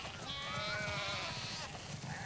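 Sheep in The Last of Us Part 2 let out a drawn-out, quavering bleat that overlaps a second higher call, clear and fairly close above a rumbling in-game ambience.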